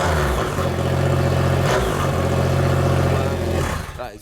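A 2.3-litre engine fitted to a bike starts up and revs hard, a loud, close, steady roar with a brief dip mid-rev before it winds down at the end.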